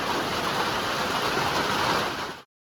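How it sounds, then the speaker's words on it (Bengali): Morning rain falling, a dense steady hiss of drops close by that runs evenly before cutting off abruptly, with no voices. "দেখো কেমন বৃষ্টি, সকাল সকাল বৃষ্টি"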